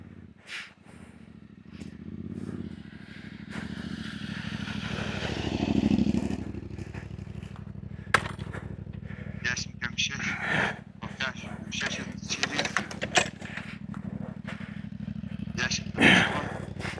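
A motorcycle on a muddy off-road track with puddles and river crossings: a low engine rumble runs throughout, with clattering and scraping knocks near the end. Voices talk over it.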